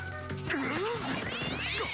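A cartoon cat meows in a French-dubbed animated episode, a few bending, sliding cries standing out over a busy soundtrack with music and voices.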